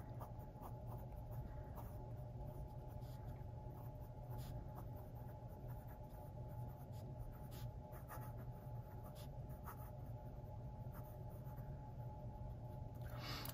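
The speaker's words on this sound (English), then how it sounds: "this is a fine nib, and it is very, very, very fine." A fine-nib Pilot fountain pen, a Custom 74 or 823, writing on paper with J.Herbin ink, a faint, steady scratching that runs continuously in close quiet, with no talk.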